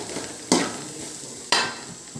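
Potatoes stirred and sautéed in a pan with masala, two distinct scraping strokes about a second apart over a soft, steady sizzle, close by.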